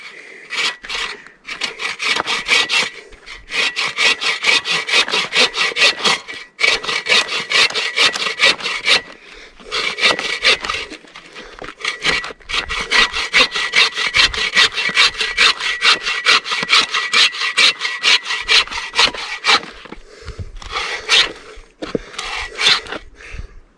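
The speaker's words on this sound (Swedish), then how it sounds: "Testa den här bågsågen då. Den har ju rätt aggressiv sågtandning också." A bow saw with aggressive teeth cuts firewood in fast, rhythmic back-and-forth rasping strokes, loud and close, broken by brief pauses between bursts.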